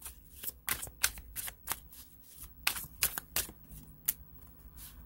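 Tarot cards are shuffled by hand during a reading, a quick run of crisp riffling bursts and flicks, close and fairly quiet, with no talking.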